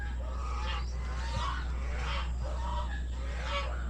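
Loud goose honking and cackling in repeated bursts from a group of geese, set against a steady low hum of background noise.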